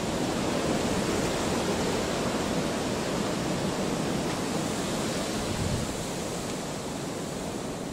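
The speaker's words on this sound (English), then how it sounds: "Yeah, it's really windy." A constant roaring rush of strong wind fills the whole stretch, broad and unbroken, buffeting close to the microphone.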